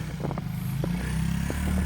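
A 1985 Yamaha Tri-Z 250 three-wheeler idles and revs unevenly while doing donuts in snow, its small engine putting out a steady buzzing drone with brief clattering bursts, close by.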